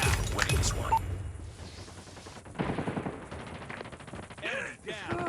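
Rapid machine gun fire in a shooting video game, bursts of quick rhythmic shots mixed with other game effects, with voices talking over the action.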